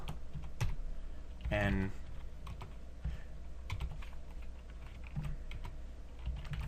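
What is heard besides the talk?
typing on a computer keyboard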